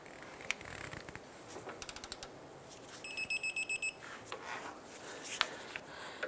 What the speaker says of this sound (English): Let's get and torque this down to 39 foot-pounds.